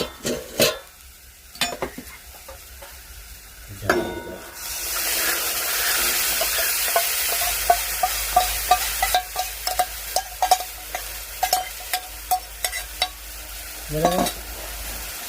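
Yogurt poured into a hot pan hisses into a steady sizzle, then a spoon stirs it with a run of quick, regular scrapes and taps against the metal, close and fairly loud with no talking.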